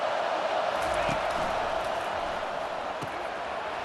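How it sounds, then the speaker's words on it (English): Steady stadium crowd roar fills a College Football 25 video game broadcast, a dense, continuous wash of noise with a few faint thumps, heard alone. "This crowd bringing the energy and noise early."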